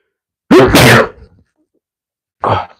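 A single loud sneeze bursts out close by, followed after a pause by a short sniff or breath.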